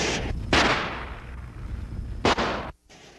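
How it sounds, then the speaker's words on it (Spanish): Gunshots ring out in a series of loud, sharp blasts with reverberant tails, unevenly spaced across a few seconds, with a sudden drop to near-silence after the last one. "4 disparos sonaron."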